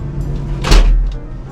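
A balcony door on a cruise ship cabin slides and thuds once, loud and close, against a low steady hum.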